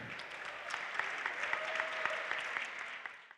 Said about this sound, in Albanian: Një duartrokitje.